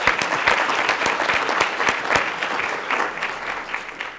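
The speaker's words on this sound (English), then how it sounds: "let's give him the big round of applause" Audience at a Black men's conference at Virginia Tech gives a loud round of applause, dense sharp claps forming a steady roar that eases slightly toward the end.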